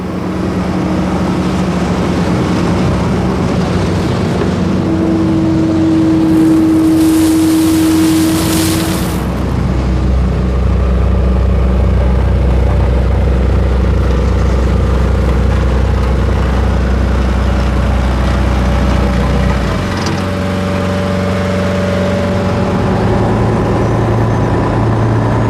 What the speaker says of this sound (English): This earth mover is known as a rubber duck because it has tyres, not tracks like most of the others.